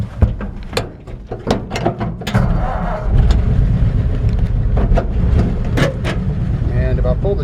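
A 1952 Ford F1 truck engine idles close by, a steady low rumble that settles in after some clunks and knocks in the first seconds, with speech-like sounds around it.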